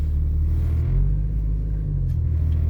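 A 1996 Jeep Cherokee XJ with a newly installed front axle drives in four-wheel drive, a steady low engine rumble and road drone from inside the cabin, with a slight swell in revs partway through and no talking.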